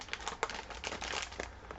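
A plastic bag rustles and crinkles in close, irregular bursts while a homemade sugar scrub is being packed away, with no talking.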